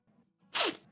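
A voice imitates a little kid's sneeze: faint breathy intake, then one short, sharp, squeaky burst with a falling pitch, ending abruptly.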